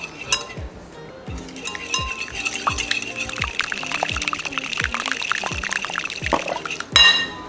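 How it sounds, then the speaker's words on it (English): Olive oil being whisked into Caesar salad dressing: a steady rhythm of quick clinking whisk strokes against a bowl with faint liquid sloshing, close and continuous, ending with a louder clatter. "Now we're just gonna slowly whisk in some olive oil."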